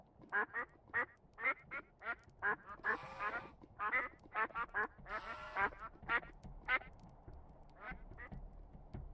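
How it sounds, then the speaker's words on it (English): Duck spawn eggs in Minecraft release a flock of ducks quacking rapidly and repeatedly in short overlapping bursts, fairly loud and close, with a couple of brief hissy noises in between. "Look at all those ducks."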